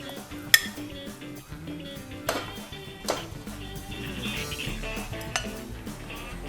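Methi peas pulao spooned from a pot into a serving bowl: repeated metal scrapes, clinks and taps of a spoon against cookware, close and steady with a few sharper knocks.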